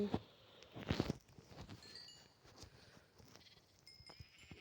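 Sheep bleat repeatedly in the video game Minecraft, several close, distinct calls with soft game sounds and faint steps between them.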